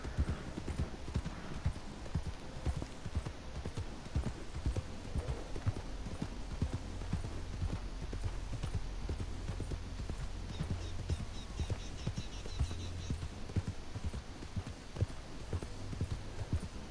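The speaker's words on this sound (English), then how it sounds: "my horse ain't going any faster" A horse in the Red Dead Redemption 2 video game gallops steadily, its rhythmic clip-clop hoofbeats running continuously over a low ambient hum at moderate, even loudness.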